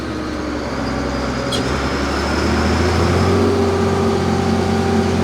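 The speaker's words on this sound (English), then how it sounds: "this tractor just walks away with that disc" Allis Chalmers 210 tractor pulling a disc, a steady loud engine drone with deep low harmonics that holds even throughout, rising slightly in strength partway through, with no talk.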